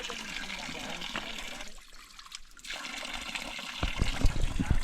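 Water trickles and splashes down from above in a Sri Lankan forest, a steady broadband wash with louder drips and splashes toward the end, heard close and alone.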